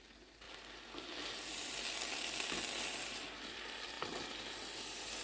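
Bread soaking in milk bubbles and sizzles in a pan for a banana pudding, a steady moderate hiss that swells after the first second and holds, with a faint click or two and no talking.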